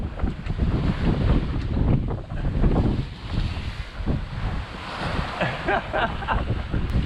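Strong wind buffets the microphone while waves rush and slap against a fast-moving sailboat pounding into the waves, a continuous loud roar with no voices.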